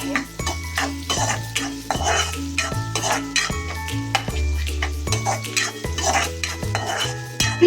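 Onions frying in a pan for a drumstick (shevga) vegetable dish, stirred with repeated rhythmic spoon scrapes and clinks against the metal over a constant close sizzle, no speech.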